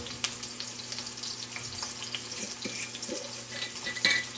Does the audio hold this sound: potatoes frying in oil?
yes